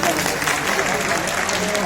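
Audience clapping at an honour ceremony held by a municipal corporation in Saharanpur, a steady dense patter of hands filling the clip at moderate loudness with no pause.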